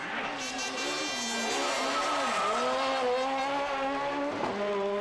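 A rally car in Madeira spins on a tight mountain road after its rear end strikes a rock face, tyres squealing in long sliding wails as the engine revs rise and fall, close and loud.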